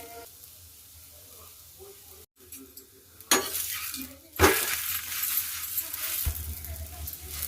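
A homemade sweet roasting in ghee in a pan over a low flame, quiet scraping and stirring at first, then a louder, steady sizzle that rises and continues, broken by a few sharp clinks of utensils.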